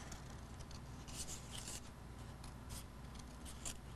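Scissors snip and scrape through paper at an art desk, a steady stream of short rasping cuts heard up close with no talking.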